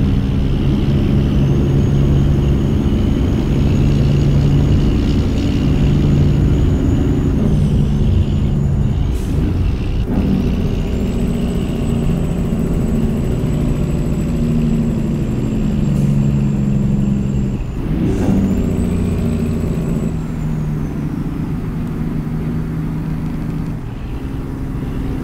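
In American Truck Simulator set in Texas, heavy truck engines idle and rumble loudly with a steady low drone, while air brakes hiss sharply a couple of times and a high whine rises and falls in the background.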